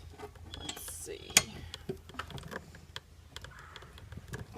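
A wrench works on the blade bolt of a lawnmower, giving sparse metallic ratcheting clicks and clanks with one sharp louder clank, close and fairly quiet, amid faint background noise.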